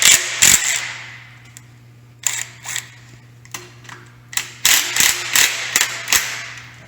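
Bolts on a milling machine head are loosened with a wrench in a workshop, giving a series of sharp metallic clicks and clanks in uneven bursts over a steady low machine hum, with no talk.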